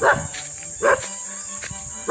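A dog barks three times in a row, each a short, sharp bark, at moderate distance over a faint, steady background hum outside a house.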